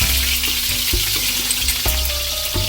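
Red peppers, chili peppers, onions and green onions sizzling in a hot wok for salt and pepper shrimp, a loud close frying hiss with repeated clanks and scrapes of stirring.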